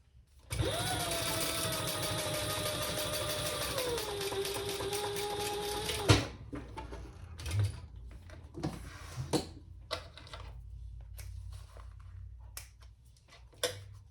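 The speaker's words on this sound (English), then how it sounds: "And top stitching on the bottom." A sewing machine runs a steady, fast top-stitching seam for several seconds, close and fairly quiet, then stops, followed by soft handling clicks and fabric rustles.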